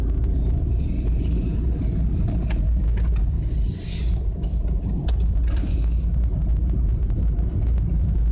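A car rolls slowly along a rural road toward a small village, with a loud, steady, close engine and tyre rumble that holds throughout and has no talking over it.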